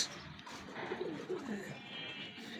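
A Kasuri pigeon from a running master pair in a loft gives a short, low, soft coo, close by, with faint background noise.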